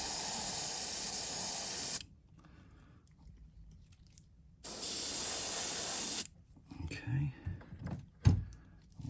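A loud, steady hiss of a spray gun spraying candy paint onto a fishing lure runs for about two seconds, stops, then returns for another burst, with quieter clicks and handling noises in between.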